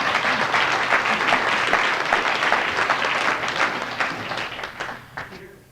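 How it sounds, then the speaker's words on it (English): Dense applause from a seated audience at a meeting where guests are being introduced, steady and fairly loud at first, then tapering off and thinning out over the last couple of seconds. "Please give David a warm round of applause."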